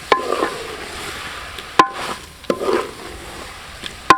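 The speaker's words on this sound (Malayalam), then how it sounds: "ഈ സവാള മൊരിയുന്ന പോലെ തന്നെ പ്രോൺസും ഒന്ന് മൊരിച്ചെടുക്കണം" Prawns frying with onions in a pan for biryani, a soft sizzle broken by several sharp clinks and scrapes of a spoon against the pan.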